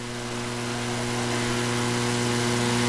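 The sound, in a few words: midget race car engines revving at heat race start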